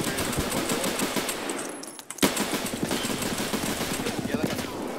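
Video game gunfire, a rapid string of sharp pistol shots that crackle densely up front, drop out briefly to near silence, then resume as a steady burst of loud reports.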